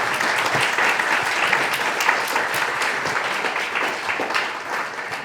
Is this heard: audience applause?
yes